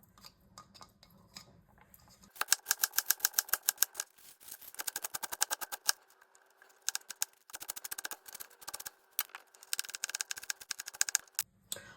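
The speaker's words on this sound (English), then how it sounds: "Now we're gonna go ahead and cut up half an onion." A knife chops half an onion on a cutting board, the blade striking in rapid, rhythmic bursts of sharp, close taps with short pauses between runs.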